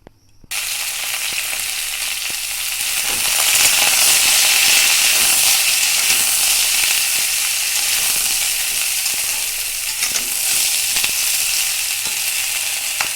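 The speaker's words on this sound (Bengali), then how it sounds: "তেলটা গরম হয়ে গেছে, এবার কচুরলতিগুলো দিয়ে দিব।" Raw taro stolons (kochur loti) hit hot oil in a kadai with an abrupt burst of loud, close sizzling that hisses on steadily, swelling then settling, with faint clicks of stirring and no speech.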